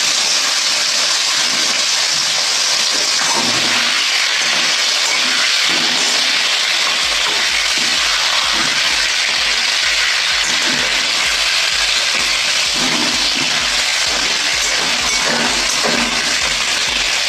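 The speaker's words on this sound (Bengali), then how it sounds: "মাছের মাথাটা তেলটা ভালো করে ভেজে নিই।" A fish head frying in hot oil gives a loud, steady sizzling hiss that runs continuously, with a faint low hum joining partway through.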